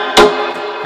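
A hip-hop beat played without the Kickstart sidechain plugin, a short loud drum hit over a sustained synth chord that sounds flat and static, with no talking.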